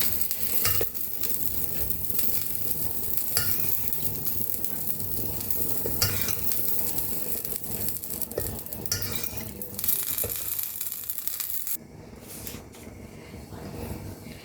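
Chopped ginger frying in hot oil for egg chilli, a loud continuous sizzle with stirring scrapes and occasional metal clinks of utensil on pan, easing off near the end.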